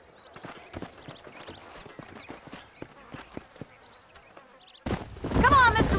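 Horse hooves clip-clop in the Red Dead Redemption video game, a steady run of close, crisp hoofbeats, joined near the end by a louder burst of sound.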